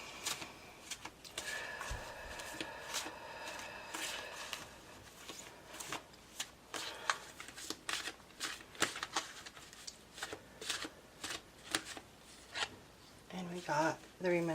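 Fairy oracle cards are shuffled and handled, a run of quick riffling, rubbing and tapping card sounds, close but faint, with a voice speaking intermittently over them.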